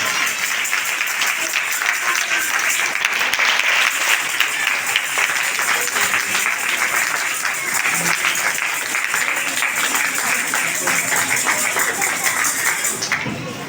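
A church congregation at a prayer and healing meeting bursts into loud, sustained applause, a dense wash of clapping holding steady for over ten seconds before easing off at the end.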